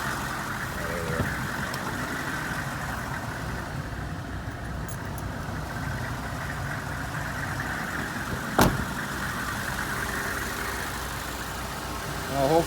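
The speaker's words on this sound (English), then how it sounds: "As soon as I disconnected it, you can hear the alternator struggling to keep it alive." A 1988 Oldsmobile Cutlass Ciera engine idles on a cold start with the alternator struggling to keep it running, a steady, close, unbroken rumble with a single sharp knock partway through.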